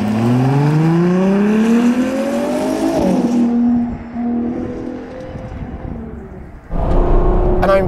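A Ferrari Purosangue accelerating hard on small nimble side roads in the Allgäu, its engine note rising steadily through the revs, dropping at a gear change, then climbing again, loud and close from inside the car.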